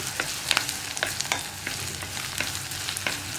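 Okra and egg thoran sizzles in a pan while a spoon stirs it, producing repeated sharp scraping clicks over a steady frying hiss, close and alone without speech.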